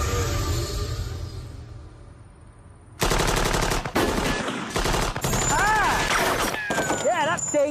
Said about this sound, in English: 50 cal machine gun.